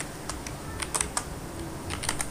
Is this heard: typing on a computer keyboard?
yes